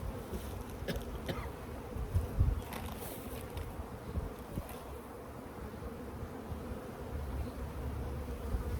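Dense, steady buzzing of many bees in an open hive during inspection, close and continuous throughout, with a low droning hum and occasional louder passes of individual insects.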